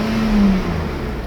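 A warmed-up Mercedes 600SL V12 engine runs with a loud, close, steady drone and a brief rise in pitch, with no talking over it.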